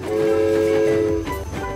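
A cartoon little train strains to climb over a bridge, sounding a sustained, loud, close horn-like tone with rumbling beneath it that fades slightly toward the end.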